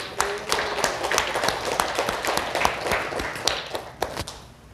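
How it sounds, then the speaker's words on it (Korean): A church congregation claps in praise to God during a Sunday worship service, giving a modest, scattered applause of irregular hand claps at moderate level that fades toward the end. "우리가 하나님께 영광의 박수를 올려드리겠습니다."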